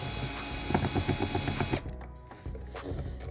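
A tool runs steadily and loud for under two seconds with a rapid pulsing chatter while working screws on a VG4 JW vacuum generator, then cuts off, leaving quieter handling noise.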